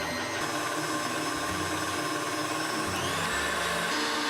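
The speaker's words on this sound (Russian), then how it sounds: "Включаем миксер на малую скорость" An electric mixer on low speed whips butter, eggs and melted chocolate batter, giving a steady, unbroken motor whir with faint rattling from the beaters, with no voices.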